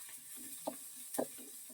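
Onions fry briefly in a pan for a roti pachadi mint chutney, producing a faint, soft sizzle with a couple of quick stirring scrapes close by.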